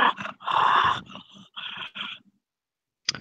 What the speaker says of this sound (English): Happy tiger growls.